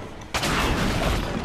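Gunfire in the video game Schatten des Krieges: a sudden loud blast followed by a dense, sustained roar of shooting that continues to the end, with no voices.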